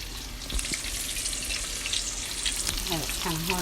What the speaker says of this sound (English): You can hear them frying real good right there.